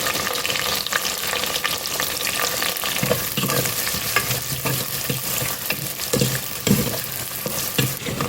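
Onions, curry leaves, ginger and green chillies frying in hot oil in a pan, a loud continuous sizzle with occasional spatula scrapes, close up and without speech.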